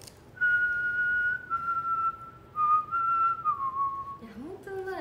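A person whistles the melody of a song, clear and close, with long sustained notes and a few pauses between phrases.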